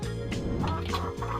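A chicken-style fowl call is heard, close and loud, with rapid gobbling, clucking bursts over a rich harmonic drone.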